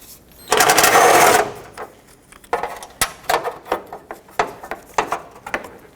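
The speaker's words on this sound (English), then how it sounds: "I'm going to take off the 2 radiator support brackets with a 10mm socket, remove the bolt." A socket wrench works a bolt on a radiator support bracket of a 2005–2010 Pontiac G6: one long buzzing burst up front, then a string of sharp ratcheting clicks and taps, close and fairly quiet.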